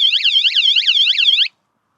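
A van's security alarm sounds a loud, rapidly warbling electronic siren tone for about a second and a half, then cuts off abruptly into silence.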